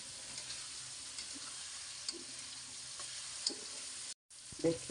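Tomato frying in a pan with onions for a pabda fish curry, a steady soft sizzle with occasional faint clinks and stirring, close and fairly quiet, briefly cutting out near the end.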